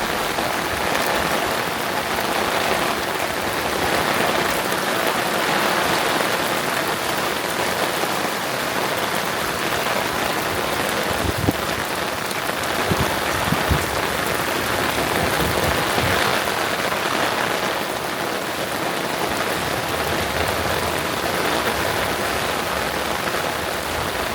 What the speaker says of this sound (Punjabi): ਉੱਧਰ ਦੇਖਦੇ ਹਾਂ ਕਿੱਦਾਂ ਮੀਂਹ ਪੈਂਦਾ